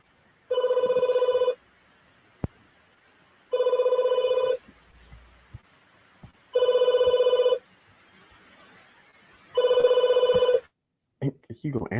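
A telephone bell rings four times in evenly spaced bursts, loud and close, with quiet pauses between rings and a voice starting at the very end.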